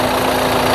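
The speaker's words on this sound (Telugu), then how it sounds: "ఇంజన్ యొక్క నాయిస్ పర్ఫెక్ట్గా అయితే ఉందండి" A 2017 BMW X1 20d diesel engine runs steadily at idle, with an even, continuous drone and a faint hum, loud and close, with no voices.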